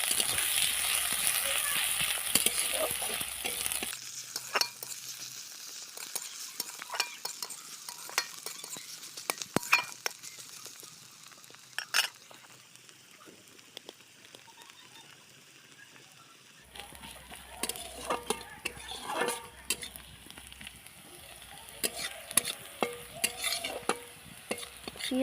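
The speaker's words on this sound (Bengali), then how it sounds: "পেঁয়াজটা আমার ভাজা হয়ে গেছে লাল লাল করে।" Onions fry in oil with cumin in a pan for a Bengali-style soybean and potato curry, stirred repeatedly. Close, frequent scraping and clinking sit over a soft sizzle, growing quieter midway and then picking up again, with a voice speaking at times.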